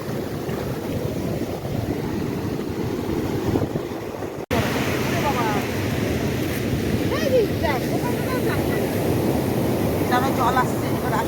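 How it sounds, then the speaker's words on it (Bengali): Ocean surf rolls at Puri beach with a constant, roaring wash of breaking waves and heavy wind buffeting the microphone, while faint voices and calls sound in the background. "এরকম ঢেউ, এরকম সমুদ্র, এরকম সি বিচ"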